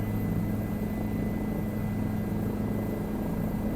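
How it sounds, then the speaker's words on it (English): Aeroplanes passing overhead along a rural rail trail between Queanbeyan and Bombala, heard as a steady, unbroken low engine drone with a broad rumble that holds for several seconds, with no voices. "And aeroplanes all around."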